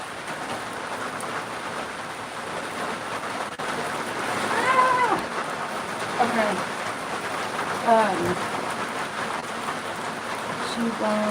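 Steady rain falls outdoors with a constant hiss of drops on surfaces, while a person talks intermittently over it at moderate distance.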